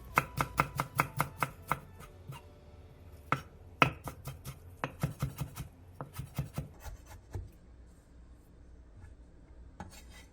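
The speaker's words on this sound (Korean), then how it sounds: "당근 조금과 깻잎 조금을 잘게 다져주세요" Knife chopping carrot and perilla leaves finely on a cutting board: quick rhythmic bursts of sharp taps, a dense run at the start, then scattered strikes and short flurries, close and crisp with no talking.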